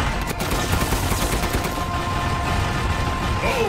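Gunfire in the game Resident Evil Village, a dense, loud, continuous barrage of rapid shots with no pauses.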